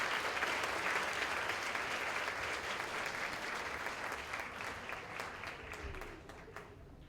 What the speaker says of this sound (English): let's give this group a round of applause as they exit the stage